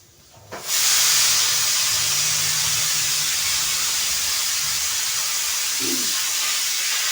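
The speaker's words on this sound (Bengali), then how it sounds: "আমার প্রেশারে চিটি দিচ্ছে" A pressure cooker of lentils with bottle gourd lets off its whistle, a sudden loud steam hiss that bursts in and holds steady, close by and with no talking.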